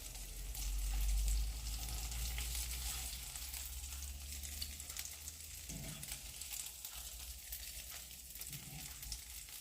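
Eggplant slices sizzle quietly in hot oil in a pan, a soft steady crackle with a low hum underneath and no talking.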